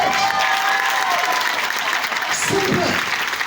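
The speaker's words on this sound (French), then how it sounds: "Applaudissez pour Long Ridge." A crowd at a motivational event claps and cheers steadily and loudly, with some voices mixed in over the applause.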